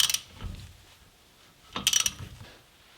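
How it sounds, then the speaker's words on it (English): A 19mm socket on a 1/2-inch ratchet clicks while a Honda Civic wheel stud is tightened, two short quiet bursts of ratcheting about two seconds apart. "19mm on a 1/2-inch ratchet."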